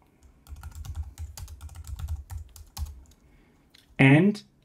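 Keys clatter on a computer keyboard as a root password is entered during an Arch Linux install, a steady run of close, crisp taps lasting several seconds, ending with a brief louder tonal sound.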